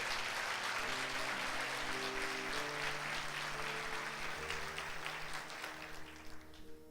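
A church congregation applauds during a Sunday worship service, a dense, steady wash of clapping that holds evenly before thinning and fading out toward the end.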